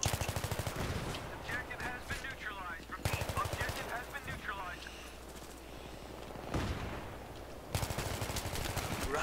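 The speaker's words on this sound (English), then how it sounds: "I just got killed by an M60." An M60 machine gun fires in Battlefield 3 on the Seine Crossing map, with loud, rattling automatic bursts returning several times amid a steady wash of battlefield noise.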